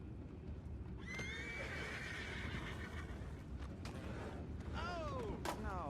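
Horses whinny loudly in a Red Dead Redemption 2 game scene, a long neigh up front and another near the end, over a low rumbling background with faint hoof clip-clops and brief sharp knocks.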